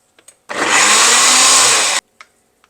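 A mixer grinder blending onions, garlic and green chillies runs in one loud burst of about a second and a half, with small clicks and knocks before and after.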